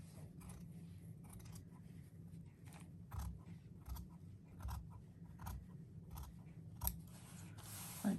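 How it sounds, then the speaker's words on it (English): Scissors snip through paper for a gnome craft, about a dozen close, quiet cuts in an uneven rhythm, each a short crisp crunch, with no talking. "start cutting towards your dot"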